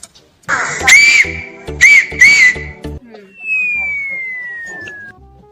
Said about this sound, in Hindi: क्यों सीटी बजा होता है, भोंगाड़ा बजा होता है।